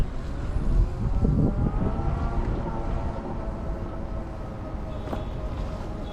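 A Harley-Davidson LiveWire electric motorcycle accelerates, a rising electric whine building over a dense low rumble of road and wind noise, steady and fairly loud without gear changes.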